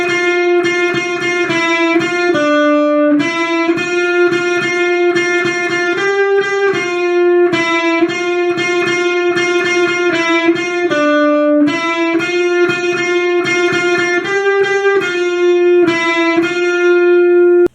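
Electric guitar plays the verse of a song, a steady run of picked single notes with a repeating phrase at an even tempo, loud and close with no voice over it.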